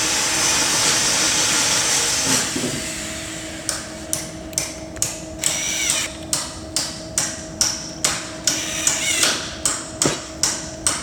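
Screws are pre-started into a wooden miter joint at a work table: a steady whirring noise gives way to a long, even run of sharp, close taps about twice per second.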